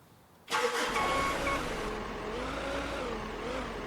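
A forklift in the Beer Factory video game starts up with a sudden engine burst and then holds a steady mid-pitched motor drone with slight wavering. No one talks over it.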